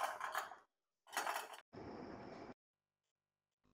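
A metal spoon stirs milk for custard apple rabdi in a pan over a medium-low flame, making three separate bursts of scraping and clinking with short silences between them.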